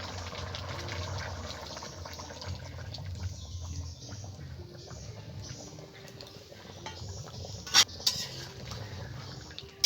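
Coconut milk poured back into a cooking pot, a soft steady liquid trickle with faint stirring and utensil clinks, quiet and close, ending in a few sharper metallic knocks.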